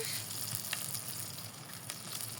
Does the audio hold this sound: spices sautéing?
yes